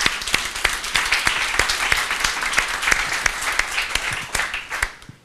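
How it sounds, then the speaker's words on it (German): A conference audience at the opening of an Atlassian Enterprise Club event gives a short round of applause, loud and close with distinct individual claps standing out over the crowd, tapering off as it ends. "Können wir da einen kurzen Applaus für haben?"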